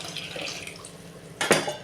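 Water poured into rice in a cooking pot while making tomato rice: a soft running splash through the first second or so, then a louder, brighter gush of water that spikes briefly near the end.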